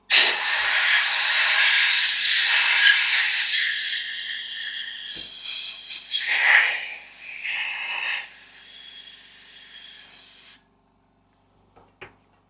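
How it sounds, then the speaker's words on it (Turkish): RifleCX CX80 gun cleaner sprayed onto a gun barrel gives a loud, steady hiss for about ten seconds, then weakens and cuts off, followed by a couple of faint taps. "Gun cleaner'ımızla güzelce temizliyoruz."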